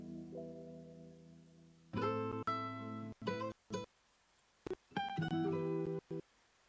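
Acoustic guitar strummed and picked in a mix with an autopan effect sweeping it from left to right, a sustained chord giving way to choppy, rhythmic strums with short stops between them, alone and clear.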